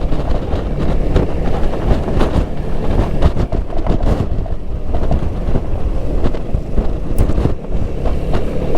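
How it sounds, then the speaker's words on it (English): Strong wind on an exposed hilltop buffets the microphone in a constant, loud low rumble with gusty surges throughout, and no voices are heard. "so it's quite windy up here and quite horrible"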